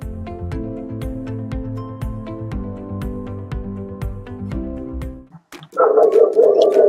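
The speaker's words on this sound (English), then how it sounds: "Dog barking in the background and everything." A neighbour's dog barks and whines in the background, starting right after a stretch of piano-like music stops. The dog is fairly loud and keeps going to the end.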